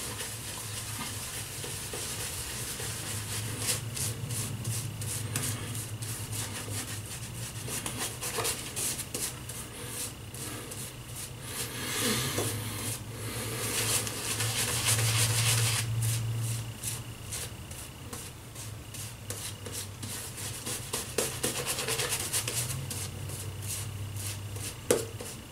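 Shaving brush working shaving soap lather into a beard, a continuous close wet scrubbing and swishing with rhythmic strokes, steady and fairly quiet.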